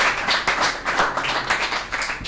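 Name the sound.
audience applause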